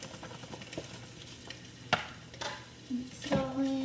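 Lettuce wrap filling stirring and frying in a pan over medium heat, a soft sizzle broken by scattered utensil scrapes and a couple of clinks, fairly quiet and close.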